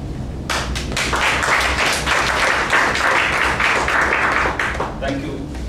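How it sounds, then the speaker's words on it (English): A meeting audience of about fifty people breaks into sustained applause at the end of a club meeting, with dense, steady clapping that stays loud for several seconds. "Once again, a round of applause for everyone."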